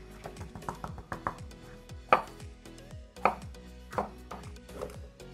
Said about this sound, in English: Also roughly cut 1/2 of a red bell pepper.